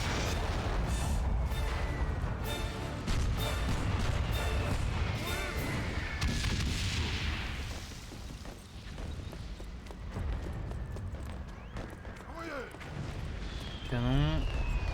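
Cannon and artillery fire in the World War I video game Valiant Hearts, a dense run of booms and crashes over a thick rumbling bed, with a voice speaking near the end.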